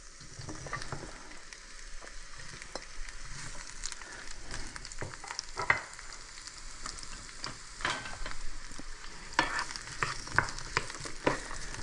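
Peppers sauté gently over moderate heat in homemade olive oil, a quiet continuous sizzle broken by scattered crackles and light stirring taps, close by and without speech.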